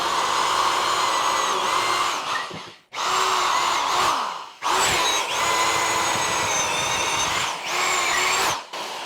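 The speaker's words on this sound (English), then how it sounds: "So I've drilled these so that I can run those 3/4 inch eye bolts through there" A power drill bores holes through wooden greenhouse framing for 3/4 inch eye bolts. The motor whines loud and close in long steady runs, broken by brief pauses as each hole is finished.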